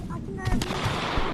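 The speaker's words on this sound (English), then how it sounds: "the actual gunshots didn't scare me" Gunfire from a scary video game sounds as a couple of quick, punchy shots in close succession, loud and sharp over a dense game background.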